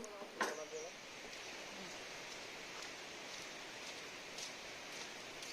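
Steady, even hiss of rain falling, continuous and fairly soft, with a brief faint knock near the start.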